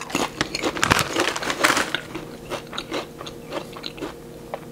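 Lay's Cheesy Garlic Bread flavour potato chips are crunched and chewed up close, a string of sharp crisp bites and crackles that thin into quieter, irregular chewing.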